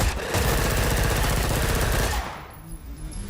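Gunfire in a scene from the action film Wanted: a dense, loud burst of rapid automatic shots for about two seconds, then abruptly cut to near quiet.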